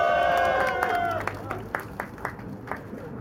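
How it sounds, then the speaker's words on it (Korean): Audience applause at an outdoor musicians' rally in Gwanghwamun Square, Seoul, with scattered claps and crowd noise after a sustained musical tone fades, moderately near, sparse clapping continuing to the end. "큰 박수 소리로 환영해 주세요"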